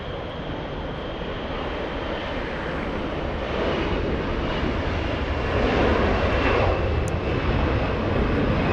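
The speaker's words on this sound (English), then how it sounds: "Delta's 914 flying to Minneapolis, an Airbus" A Delta Airlines Airbus A321 bound for Minneapolis at LAX airport gives a steady, loud jet engine roar that swells slightly over several seconds, broad and continuous with no voices.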